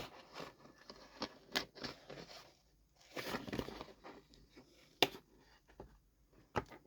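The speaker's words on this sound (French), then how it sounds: "Je vais fignoler avec mes ciseaux." Scissors snipping and trimming paper to neaten a crooked edge, a scattered series of short, sharp crisp cuts with small crinkling rustles between them, close up and fairly quiet.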